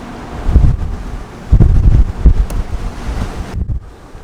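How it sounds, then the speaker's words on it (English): Waves crash and wash in repeated rushing surges, mixed with gusty wind buffeting the microphone, with no voices. "I actually love watching the waves."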